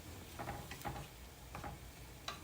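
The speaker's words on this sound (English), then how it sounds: "So stir it all together again" Cauliflower, salmon and coconut aminos are stirred together in a frying pan, giving soft, quiet scrapes in a few irregular strokes over a faint, steady sizzle.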